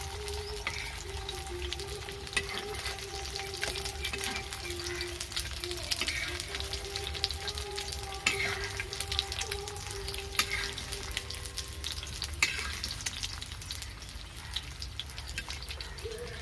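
Poolampatti fish fries in oil with a continuous, even sizzle and crackle, close and moderately loud, with no clear talk over it.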